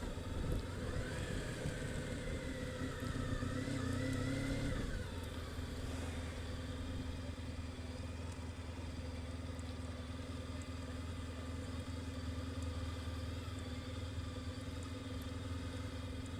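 A motorcycle engine runs steadily nearby, a constant low rumble with a slight rise in revs early on before it settles into an even idle, with no talk over it.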